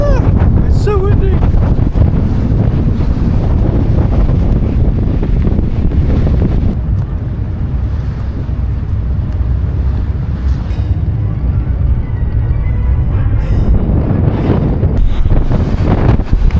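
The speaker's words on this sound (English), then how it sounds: "It's so windy!" Strong gusts batter the microphone atop Pulpit Rock above a Norwegian fjord near Stavanger, a loud continuous rumbling roar, with a brief voice near the start.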